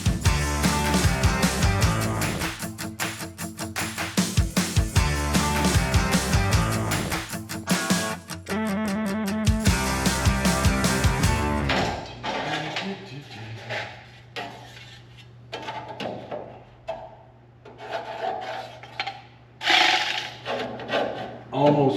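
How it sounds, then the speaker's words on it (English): A grinder bites into a rocker panel patch on a 1964 Chevelle Malibu SS, loud harsh grinding for about twelve seconds that breaks into irregular bursts, then trails off into quieter scraping and clanks. "Grind to fit."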